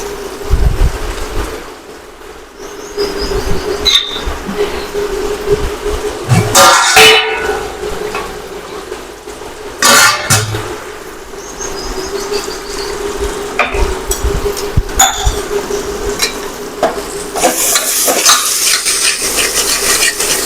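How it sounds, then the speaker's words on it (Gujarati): Masala tempering sautéed in hot oil with a spoon, the spoon clinking and scraping against the pan in irregular strokes over a continuous close sizzle, loud and busy throughout. "તેલ છૂટું થાય મસાલામાંથી ત્યાં સુધી આપણે તેને આવી રીતના સાંતળી લેશું"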